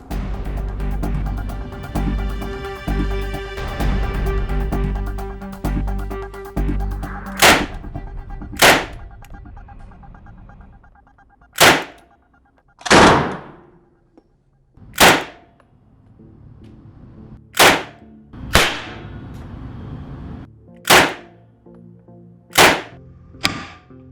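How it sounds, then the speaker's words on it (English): Single shots from a WW2-era British gun ring out at a bottom target on a firing range, about eight sharp, loud reports spaced a second or two apart, following a stretch of low rumbling noise. "single shots on the bottom target"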